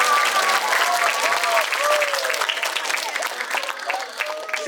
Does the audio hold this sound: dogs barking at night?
no